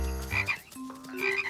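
Frogs croaking near a road at night, a run of repeated croaks that come in bursts and overlap one another, loud and close with no talking.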